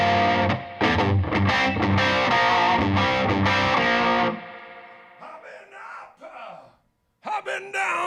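A Les Paul electric guitar plays loud, driven chords through a small turned-up amp with a single EL34 tube and onboard reverb. The guitar then drops away, and someone talks in a raspy voice.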